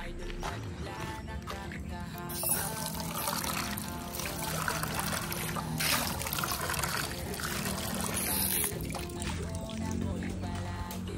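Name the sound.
water being poured for pigeons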